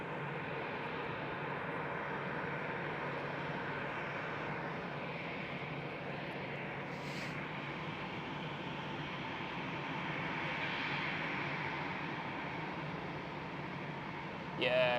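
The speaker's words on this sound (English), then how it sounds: "While Air France is making a damn lot of noise, starting up the engines." An Air France airliner starting its engines at Amsterdam Schiphol airport gives a steady, broad roar that holds throughout, heard from a distance across the apron.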